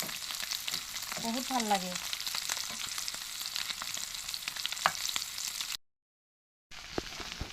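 Sliced bitter gourd sizzles and crackles in hot oil in a home kitchen, a steady frying hiss with a brief stir and occasional pops, cut by a short silence; someone says a few words.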